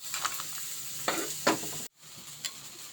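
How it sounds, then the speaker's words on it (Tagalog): Garlic sizzles and fries in a pan before onions go in, a steady crackling hiss broken by scraping stirs and one brief dropout. "Antayin na lang natin guys na mag-brown ng konti yung ating bawang"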